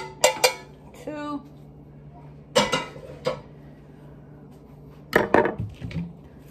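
Noodles are dumped into a pan for homemade mac and cheese, making several sharp clattering bursts of metal and utensils separated by quiet gaps.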